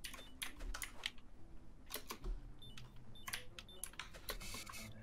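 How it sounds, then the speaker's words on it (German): A computer keyboard is typed on in uneven clusters of crisp, close clicks, quiet and alone with no voices. "Och man, diese Tastatur ist das."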